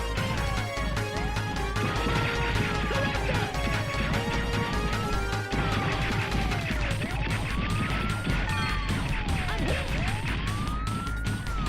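Arcade-style cars smashing in the PlayStation game The Misadventures of Tron Bonne, heard as continuous loud crashes under wailing police-style sirens and dense game music, with no pauses throughout.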